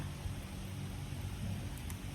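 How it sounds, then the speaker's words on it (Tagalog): Steady rain pours down in a constant hiss with a low rumble underneath, even and unbroken throughout. "Ulan ngayon, ulan."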